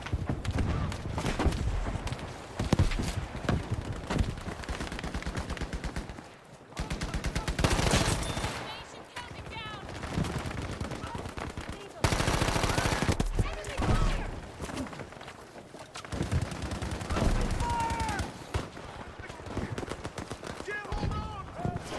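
Gunfire in Battlefield 5 multiplayer, repeated bursts of automatic weapon fire and explosions across the stretch with brief lulls, while someone talks over the game in Turkish.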